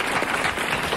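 Studio audience on a French radio-TV panel show breaks into dense applause, a steady wash of many hands clapping at moderate loudness for the full second with no talk over it.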